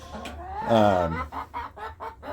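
A hen clucks close by, a drawn-out squawk followed by a run of short, rhythmic clucks.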